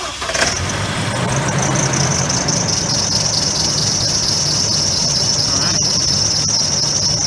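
A 2006 Chevrolet Colorado pickup, fresh from an oil change, cranks and catches, then runs steadily with a low engine hum and a constant high-pitched squeal over it. Nobody speaks.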